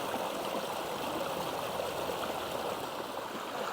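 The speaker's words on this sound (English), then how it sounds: "listening to this beautiful noise of the water" Water flowing steadily over boulders and step-ups in a backyard aquascape stream, a continuous soft rushing and gurgling at low level with no voices.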